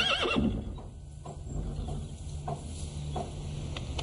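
A horse walks on dry ground with soft, irregular hoof clops while a short neigh rings out near the start, close by against a quiet outdoor background.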